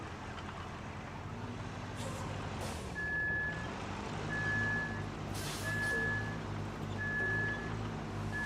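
In the RoadCraft video game, a truck engine rumbles steadily while a sequence of evenly spaced reversing beeps sounds over it, with a couple of brief hissing bursts like air brakes in between.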